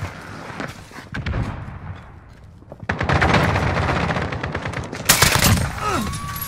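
Rapid automatic fire from an AS Val rifle in the Modern Warfare 2 video game, several dense bursts of gunshots across the clip, loud and close, with the heaviest volley near the end.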